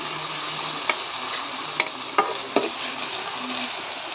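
Finely chopped onions frying in hot oil while being stirred: a steady, close hiss of sizzling broken by a few sharp clicks and taps of the spoon on the pan, with no voices.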